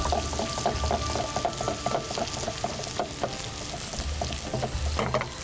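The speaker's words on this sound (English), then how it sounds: "And now start mixing it properly." A Kashmiri kofta mixture sizzles in a hot pan as it is stirred, with steady frying crackle and repeated scraping strokes of the spoon.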